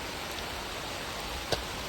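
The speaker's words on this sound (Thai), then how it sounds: "ตอนนี้ฝนกำลังลงเม็ดเลย" Steady rain falls outdoors during the afternoon, a dense, even hiss of drops with one brief louder patter near the end and no voices.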